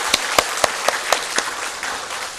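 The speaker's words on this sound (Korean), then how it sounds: "위대한 성도님 여러분들을 위하여서도 박수 한번 보내겠습니다." A church congregation applauding in a sanctuary, several strong rhythmic claps in unison at a steady beat, then dissolving into softer scattered clapping.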